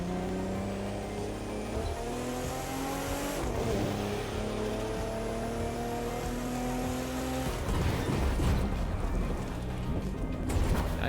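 A car's engine drones steadily in The Crew 2 racing game, a loud sustained tone climbing through gear shifts with whining harmonics, then a rougher burst of noise near the end.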